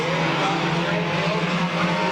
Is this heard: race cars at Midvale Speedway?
yes